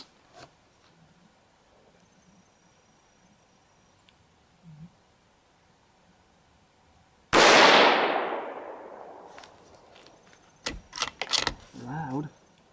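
A Tikka T1X .17 HMR rifle fires a Hornady 20 grain XTP round with one sharp, very loud report and a long decaying tail. Quick metallic bolt clicks and clinks follow. Before the shot there is only near quiet.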